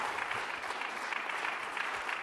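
A church congregation claps together in praise, a steady, dense patter of many hands, moderately distant and continuous for a couple of seconds.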